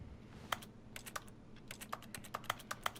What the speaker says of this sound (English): Why does it have a keyboard thing? There's not even a keyboard near me.